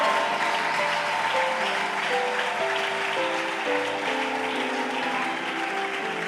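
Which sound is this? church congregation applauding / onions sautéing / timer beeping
church congregation applauding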